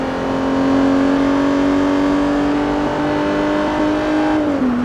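A V6 engine in Forza Motorsport 3 holds a loud, sustained rev that climbs gradually and then drops off sharply near the end, with no talking.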